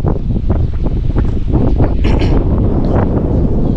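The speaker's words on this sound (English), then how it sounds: "it's kind of windy right now" Loud, rough wind buffets the microphone in continuous gusty rumbles, with no other clear sounds coming through.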